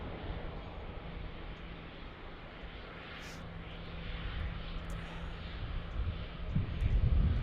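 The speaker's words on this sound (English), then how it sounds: "That was a smooth landing right there." A fixed-wing airliner touching down at Dallas Love Field in Texas, a steady broad engine roar heard from outside that swells toward the end as the plane rolls closer.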